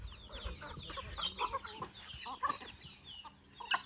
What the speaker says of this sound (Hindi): अब इतना सारा मुर्गी, लेकिन हम लोग का नहीं है पूरा।